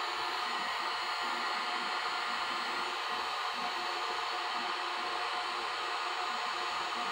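A heat gun blows hot air onto a stuck rusty screw, producing a steady, close, hissing whoosh that holds at an even level throughout with no voices.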